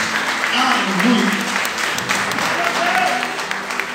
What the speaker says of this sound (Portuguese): Aplaude a ele porque ele merece.